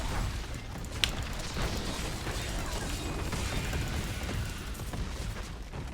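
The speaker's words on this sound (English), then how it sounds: "Lots of explosions." Dense, continuous bursts of explosions and crunching impacts rumble through a Diablo 3 Reaper of Souls battle, with a sharp pop standing out early amid the constant chaotic din.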